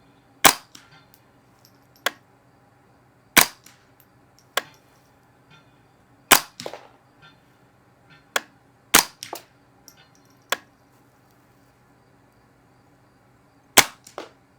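Sharp shots from a .22 semi-auto rifle with a Griffin Checkmate HD suppressor, firing CCI standard ammunition, crack one at a time at uneven intervals, about ten in all, each a short snap with a brief tail, no talking.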